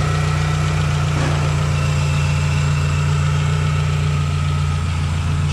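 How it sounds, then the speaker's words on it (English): A 2006 Proton Savvy with a 1.2-litre petrol engine idles steadily up close, a loud constant low hum with a smooth, unbroken rhythm and no talking. "First time I'm hearing the engine run,"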